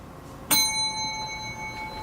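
Single sharp ding of a counter bell, close by, with a clear ringing tone that sustains and slowly fades over a quiet room background.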